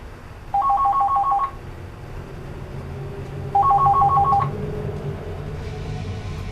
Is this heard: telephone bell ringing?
yes